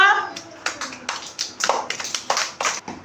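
Children clap together for a classmate at an anganwadi preschool, a few quick rounds of hand claps in close, uneven bursts, with children's voices mixed in.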